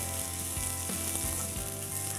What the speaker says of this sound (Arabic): على البصل والخضار بتاعي اللي عمال بيتشوح